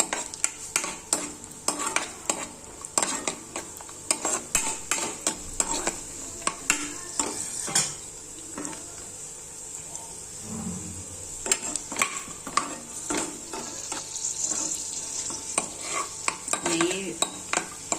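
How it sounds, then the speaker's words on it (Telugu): Raisins and cashews frying in ghee in a pan while being laddu ingredients, with a light sizzle under frequent close stirring scrapes and occasional clinks of utensil against metal; no talk. "ఇప్పుడు ద్రాక్ష వేస్తున్నాను. ఇది కూడా వేయించుకోవాలి."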